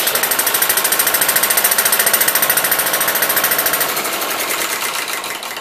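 A Webster engine fitted with a mechanical governor runs steadily, a loud, rapid and even mechanical chugging that carries on throughout and fades slightly toward the end, with no voices over it.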